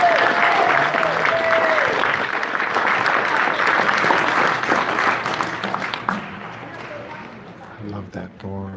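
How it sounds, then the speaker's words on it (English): Dense, loud applause and cheering fill a Tustin city council chamber after a prayer, sustained for about six seconds before thinning out, with voices in the crowd. "let's have another round of applause"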